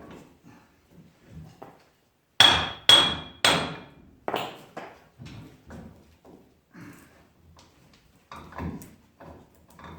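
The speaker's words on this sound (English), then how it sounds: "I just threw the nut on the end and gave her a few light taps." A few light hammer taps on a nut threaded onto the end of a Ram 1500 CV axle to free it, three sharp close knocks in quick succession, then softer scattered taps and handling noises.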